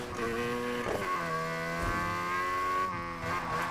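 A car tuned for drifting slides through corners in the racing game Need for Speed Heat, its engine holding a loud, sustained revving whine that rises and dips in pitch with a faint tire hiss beneath.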